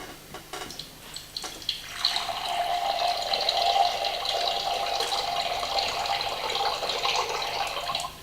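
River water rushes and flows in a valley-bottom setting, a steady broad wash that swells in after a couple of seconds and stays loud and continuous, with no talk.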